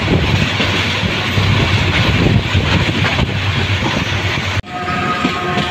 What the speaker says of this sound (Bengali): স্টেশন আসা ট্রেনটি স্লো করেছে।